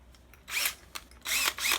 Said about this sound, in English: So I'm going to go ahead and drill the holes for the air